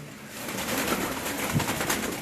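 A Salara pigeon from a Lalyani, Kasur loft coos close and clear in a soft, throaty burble over faint background noise.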